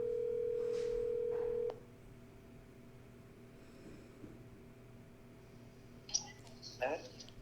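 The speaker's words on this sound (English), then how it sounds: "Let me get Denise on the phone." A telephone tone rings steadily for about two seconds and cuts off, followed by quiet line hiss and a few faint clicks and beeps as a call is placed on a live show.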